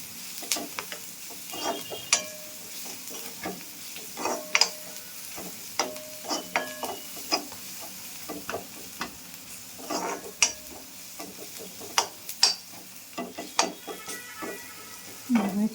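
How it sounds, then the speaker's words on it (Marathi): Masala with onion and red chilli powder frying in oil, a low sizzle under repeated scraping stirs of a spoon against the pan, with irregular clinks and knocks. "सगळा मसाला तेलात फ्राय करून घ्या."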